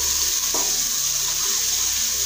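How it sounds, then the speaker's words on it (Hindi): Garlic and ginger paste fries in a pan with a steady, close hiss of sizzling, plus a brief stir scrape partway through. "थोड़ा सा इसको फ्राई करेंगे"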